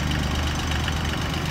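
A Sunrise JD series three-cylinder 18.5 HP tractor engine idles nearby, giving a steady, dense, low rumbling drone with an even mechanical knock and no pauses.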